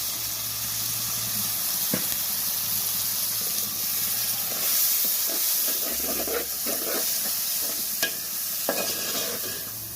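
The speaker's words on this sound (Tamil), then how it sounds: "இப்போ நம்ம இதை கூட சுத்தம் பண்ணி வச்சுருக்க இறாவை சேர்த்துக்கிறோம்." Prawns stirred into frying onions in a pan give a steady sizzling hiss with repeated close scraping and clinking stir strokes of a spoon against the pan.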